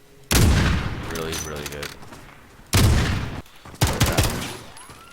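Sniper rifle shots in Call of Duty: Warzone (Modern Warfare), three loud, sharp blasts spaced a second or two apart, each with a ringing tail, and a voice talking between the first two.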